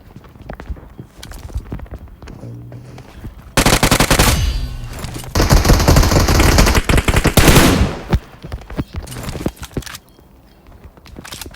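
Loud automatic gunfire bursts in the mobile battle royale game PUBG Mobile, with sustained rapid firing in two long stretches and scattered footstep-like clicks around them, no talking.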